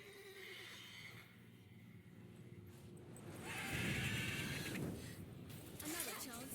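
A horse whinnies in The Witcher 3 amid in-game ambience, with a louder neighing burst in the middle, while characters talk nearby.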